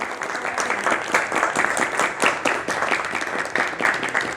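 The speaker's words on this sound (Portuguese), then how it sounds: "quero que todo mundo bata uma salva de palmas aí" Sustained applause from an audience clapping for parents at a family-themed communication event, dense and steady throughout without talk.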